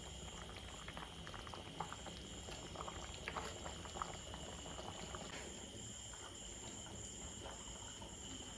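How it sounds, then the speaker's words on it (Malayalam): Fish curry of tuna with kudampuli and spicy chilli bubbling steadily in a pot, a continuous close simmering crackle with soft popping bursts throughout, no voices. "അങ്ങനെ നമ്മുടെ മീൻ കറി തിളയ്ക്കാൻ തുടങ്ങി."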